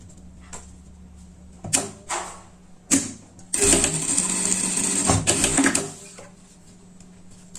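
Sewing machine stitching a seam on a pet harness set near a buckle, with a few short runs and clunks before a sustained whirring burst, then a brief final run, close by.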